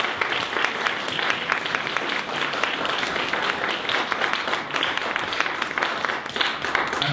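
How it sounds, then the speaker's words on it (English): An audience at a sponsorship talk breaks into sustained applause, a dense steady patter of many hands clapping throughout, moderately loud. "let's give Bilal a round of applause."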